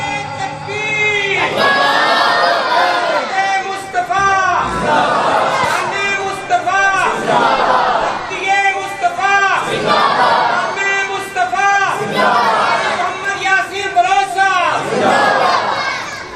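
Large crowd at a religious gathering shouting slogans in unison, loud repeated call-and-response chants rising and falling in rhythmic bursts, dense voices filling the whole stretch.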